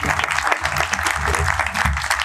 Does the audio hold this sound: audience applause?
yes